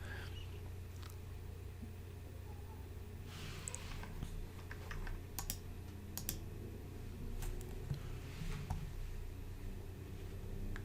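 Someone taps shortcut keys on a computer keyboard, giving sparse, light clicks in small clusters over a steady low hum, fairly quiet and close, with no talking.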